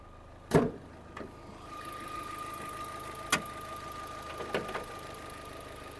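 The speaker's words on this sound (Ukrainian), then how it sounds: "Двигун працює чітко" A 2014 Opel Zafira engine idles steadily at close range, with a few sharp clicks and knocks standing out over the low hum.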